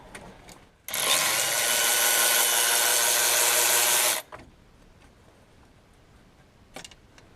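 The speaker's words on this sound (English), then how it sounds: "Just a 10mm deep socket." A power tool with a 10mm deep socket runs steadily for about three seconds, loosening a glow plug on a 6.0 Powerstroke diesel engine, then stops, leaving quiet shop sounds.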